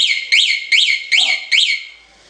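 Aftermarket alarm fitted to a Suzuki GSX-R K2 motorcycle sounding five loud, sharp rising-falling electronic chirps in quick succession, close up, then fading into quiet.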